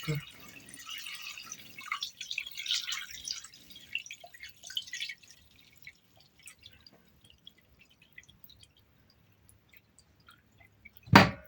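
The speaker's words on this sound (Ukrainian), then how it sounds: "Окремо розвели розсол і вже ним заливаємо м'ясо." Brine poured over meat being prepared for smoking, with a close, splashy trickle of liquid for the first few seconds that fades to quiet drips, ending in a sudden sharp knock.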